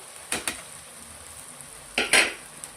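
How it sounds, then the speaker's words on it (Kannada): Fried bitter gourd being mixed in a pan: two short bursts of spatula scraping and clatter against metal, close, separated by a quiet pause, with no voices. "ಚೆನ್ನಾಗಿ ಮಿಕ್ಸ್ ಮಾಡ್ಕೊಳ್ಬೇಕಾಗುತ್ತೆ ಈ ಟೈಮಲ್ಲಿ"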